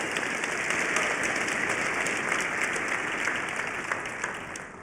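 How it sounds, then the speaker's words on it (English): An audience at the Cisco Live 2026 Las Vegas opening keynote gives sustained applause, a dense wash of many hands clapping that holds steady and fades slightly toward the end. "big round of applause"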